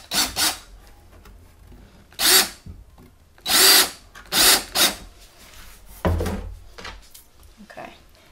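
A power drill drives screws into a PVC arboreal gecko enclosure, heard as several short, loud, close whirring bursts separated by pauses.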